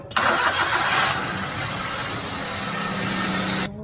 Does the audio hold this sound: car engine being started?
yes